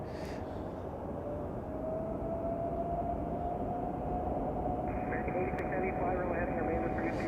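A United Airlines Boeing 737 takes off at Chicago O'Hare as a loud, steady jet roar that builds slowly, heard from a distance outdoors.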